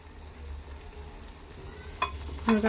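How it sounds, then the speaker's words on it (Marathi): Semolina roasting in ghee over a low flame for mango sheera, stirred constantly: a faint, steady sizzle with two short scraping strokes of the spoon near the end. "सतत हलवत असं आपण रवा भाजून घेत आहेत"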